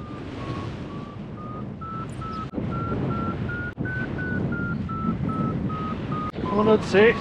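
A paragliding variometer beeps steadily in flight near the Zwölferhorn, its repeated tone slowly rising then falling in pitch over wind noise and low rumble.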